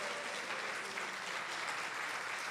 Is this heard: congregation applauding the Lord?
yes